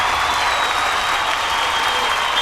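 An audience on a comedy show bursts into sustained applause, a dense, even wash of clapping that holds at a steady loud level without a break.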